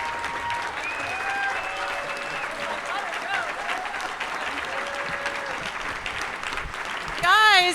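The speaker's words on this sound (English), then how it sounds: "a big round of applause for Riley Gaines" A crowd at a conservative summit applauds Riley Gaines with sustained clapping throughout, while a voice carries faintly over it and the noise swells near the end.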